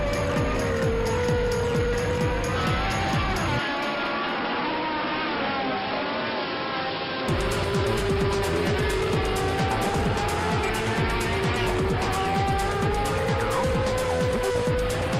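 Several 1982 Formula 1 race cars scream past in a loud, continuous engine roar, with overlapping pitches rising and falling as they chase each other during a Grand Prix, one passing briefly near the middle.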